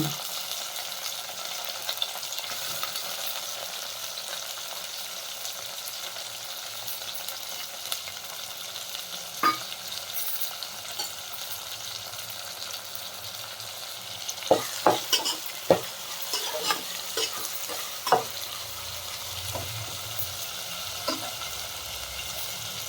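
Steady sizzling of spices tempering in hot oil for an okra stew continues throughout, with occasional clinks of a spoon stirring in the pan and no talking.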